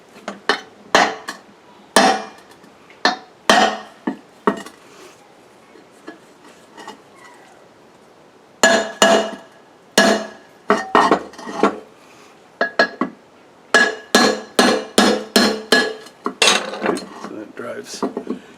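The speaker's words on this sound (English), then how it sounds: "there's another taper plug here, which we can drive. Just drive it straight through into the bore." Metal-on-metal hammer blows drive a taper freeze plug through the bore of a Borg Warner 1305/1339 Quadratrac transfer case during teardown, sharp ringing strikes in irregular bursts, some quick runs of taps, close and loud.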